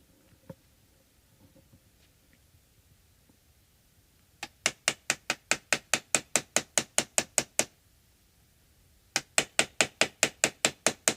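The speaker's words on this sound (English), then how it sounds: "This is a wooden dowel, and I have the regular hammer." A regular hammer taps a wooden dowel set on a guitar fret during repair of a vintage Japanese Barth guitar, sounding as two runs of sharp, evenly spaced knocks, about fifteen and then six, loud and close after a quiet start.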